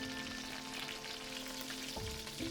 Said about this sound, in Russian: Обжарьте с другой стороны тоже до золотистого цвета.